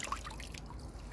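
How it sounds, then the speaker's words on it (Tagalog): Water dripping off freshly washed guavas, a few small close drips and trickles over a low background rumble. "Para makatulo na sila dyan."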